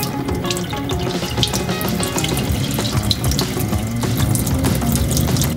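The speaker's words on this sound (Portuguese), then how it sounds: "Para que ele funcionasse, precisamos enchê-lo com água fria." Cold water runs from a tap into a flask, making a continuous splashing, gurgling fill sound that is steady and fairly close, with no talking.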